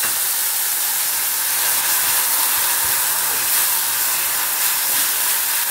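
Onion paste hits hot oil with bay leaf and whole garam masala in the pan, for a low-oil doi katla fish curry. A loud, steady hiss of sizzling goes on unbroken throughout, with no talk over it.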